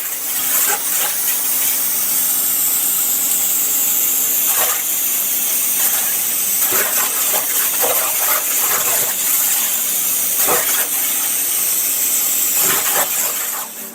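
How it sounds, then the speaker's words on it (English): A high-pressure water jet cutter fires an abrasive-laden stream through hard material, giving a loud, steady broadband hiss throughout, with brief sharper spray bursts rising now and then. "so they invented water jet cutter"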